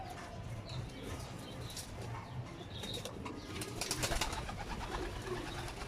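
Pigeons cooing faintly at a pigeon loft, with occasional wing flaps and some light chirping amid background noise.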